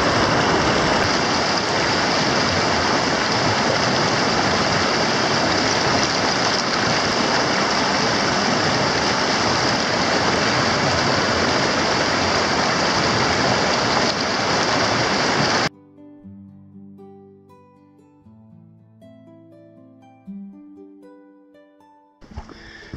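Loud, steady roar of a waterfall in the Dolly Sods Wilderness fills the first fifteen seconds, then cuts abruptly to quieter sounds.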